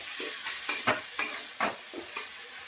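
Capsicum and mixed vegetables frying in spiced oil in a pan, a soft steady sizzle broken by several quick scraping strokes of a spatula stirring the pieces, close and fairly quiet with no talking.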